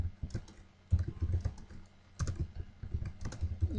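Typing on a computer keyboard while writing PHP code, a close, steady patter of soft key clicks in uneven bursts with brief pauses, no voice over it.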